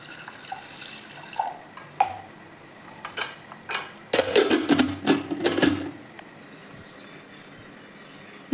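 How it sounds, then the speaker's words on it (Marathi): Washed chana dal goes into a pressure cooker in a kitchen, heard as a few scattered knocks and clinks, then a burst of wet sloshing and pouring about halfway through, before it settles to quiet. "आता कुकरमध्ये टाकून घेणार आहे मी."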